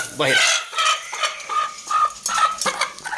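A white hen clucks repeatedly up close, loud and agitated, in quick uneven bursts with no talking.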